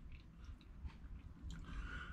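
Someone quietly chews mashed vegetables with a crunchy oven-baked topping. Soft, faint mouth crunches and squelches sit over low background hum.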